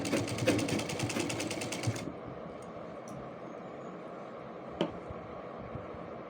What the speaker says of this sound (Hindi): फ्रंट से बैक तक वेस्ट को राउंड में स्टिच करेंगे।